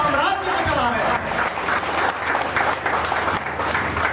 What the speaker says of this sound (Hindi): एक बार जोरदार ताली बजाना चाहूंगा